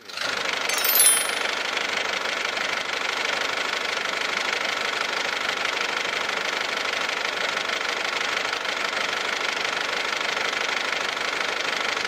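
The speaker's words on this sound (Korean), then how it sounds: "일단 엔진 소리부터 한번 들어보도록 하겠습니다." A SsangYong Rodius Euro RD500 engine idles with the bonnet open, a steady close-up diesel clatter and hum held evenly throughout, with a brief sharp click near the start.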